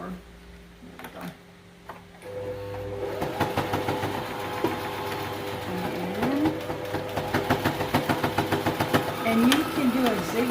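A sewing machine stitches face mask fabric, starting after a few quiet seconds with soft handling noises, then running in a fast, steady mechanical patter that briefly pauses and speeds up again.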